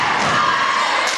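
A loud, dense crowd roars and cheers steadily throughout in a gym at a middle school city championship girls' basketball game between the Siwell Lady Cougars and Powell.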